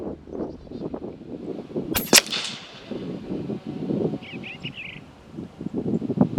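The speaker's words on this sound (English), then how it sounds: "Let me send the second shot and see if I can see where these are going." A single sharp crack from a Umarex Gauntlet 2 SL .30 caliber air rifle cuts through quiet outdoor rustling and faint birdsong, loud and brief in the middle of a calm stretch.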